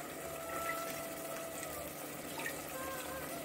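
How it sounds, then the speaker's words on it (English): Water runs and swishes steadily as a mixer grinder jar is rinsed out, giving a continuous, moderately close gush at the sink with no pauses. "Wash out the mixie"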